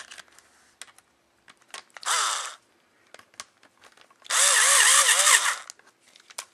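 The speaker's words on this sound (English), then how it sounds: "Come in here with the nut driver again." Power nut driver on a Venom Comp Creeper build: two close whirring bursts, one short and one longer, with clicks and handling knocks between them.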